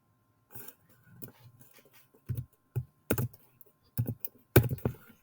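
Scattered keystrokes on a computer keyboard while writing pandas code, irregular clusters of near, crisp clicks with pauses between bursts, no talking.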